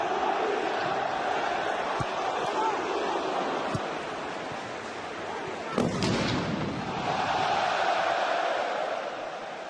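A big football stadium crowd at a PSG versus Marseille match roars in a steady, dense wash of noise, swelling and dipping with a brief louder burst midway.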